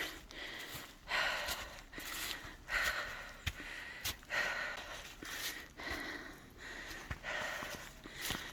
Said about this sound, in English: Sorry for the heavy breathing, y'all.